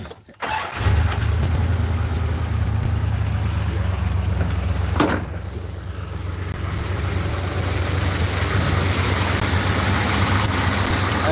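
A truck engine cranks briefly, catches and settles into a steady, rumbling idle that runs close and constant to the end, with one brief sharp knock partway through.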